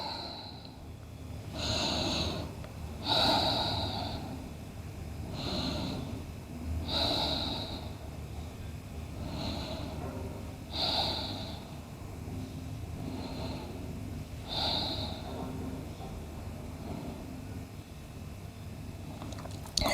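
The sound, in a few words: breathing during a yoga forward bend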